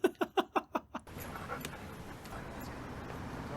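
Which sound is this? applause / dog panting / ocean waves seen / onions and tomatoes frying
dog panting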